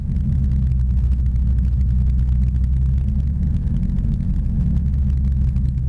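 Inside the cabin of a Sling 2 light aircraft, the engine holds a steady drone at 2000 RPM. It is a loud, constant low rumble with no pauses and no voices.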